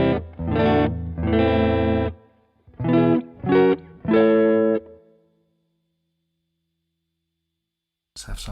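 Electric guitar played through an Alesis IO Dock into GarageBand's clean combo amp: a handful of ringing, sustained chords or notes in two bursts, each decaying into silence, with a brief noise at the very end.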